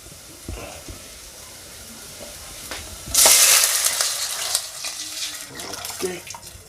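Onions hit hot oil in a pan and break into a loud, steady sizzle that lingers and fades slightly, following a few quiet clinks and scrapes of cooking.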